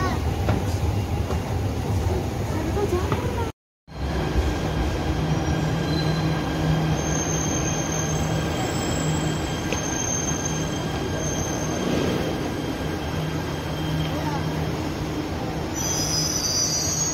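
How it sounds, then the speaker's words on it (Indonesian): An MRT train runs steadily with rolling rumble and high, sustained wheel squeal, loud and close for the whole stretch apart from one very brief dropout. Voices are faintly present. "Wah, jalan kereta apinya, Dek."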